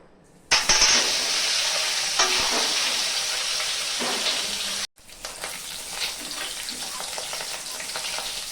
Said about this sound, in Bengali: তেল গরম হয়ে গেছে, আমি ডিম কটা ভেজে নেব।